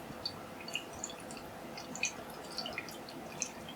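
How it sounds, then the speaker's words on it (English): Beer being poured into a small branded glass, faint close-up fizzing with scattered crackling bubble pops and soft drips over a quiet liquid hiss. "pour it into the tiny rebel glass"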